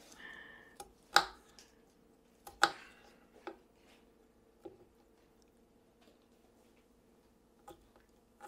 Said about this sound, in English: I'm always mincing garlic